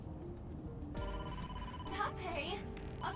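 Within the video game AI: The Somnium Files, a telephone rings with a bright, repeating electronic trill that starts about a second in. Low background sounds and brief voice-like game noises sit beneath the ringing.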